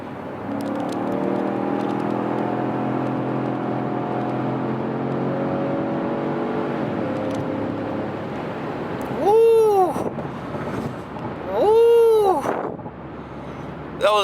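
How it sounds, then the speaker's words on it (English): A Ford Fusion Sport with an MRT V2 exhaust drones steadily at cruise, then two sharp rising-and-falling engine blips ring out as it downshifts and pulls, loud and close from inside the car. "let's get a couple of downshifts real quick for the camera and do a quick little pull"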